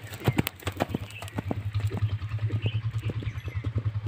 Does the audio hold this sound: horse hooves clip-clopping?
yes